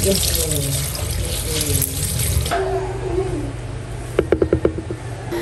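Boiled cassava leaves wrung out by hand over a sink, water splattering and trickling down steadily, ending in a quick run of sharp drips and splashes, close by with faint background noise.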